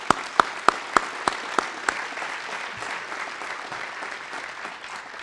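At an award ceremony, an audience applauds. A few sharp, distinct claps ring out at the start, then a softer, steady wash of clapping continues in the hall.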